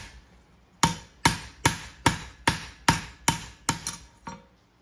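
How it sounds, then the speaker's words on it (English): A farrier strikes the toe of a horseshoe with the flat side of a hammer, giving eight sharp, evenly paced metallic blows close by, with no talk over them. "So I'll just take the flat side of the hammer and just go around there"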